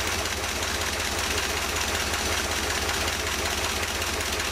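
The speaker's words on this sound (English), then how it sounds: "there we have it, a smooth running engine" Car engine running steadily during carburetor adjustment: an even, close, continuous idle with a rapid rhythmic chugging pulse and no talking.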